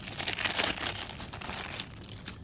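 Thin plastic packaging bag crinkles and rustles close by while a KRAFTGUN is unboxed, busier in the first half then thinning out, with no talking.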